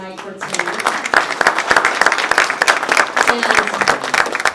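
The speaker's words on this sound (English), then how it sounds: "I thank you for giving them a round of applause" Audience at a Taste of Asia dinner event breaks into sustained applause, dense steady clapping filling the room for several seconds after a brief moment of speech at the start.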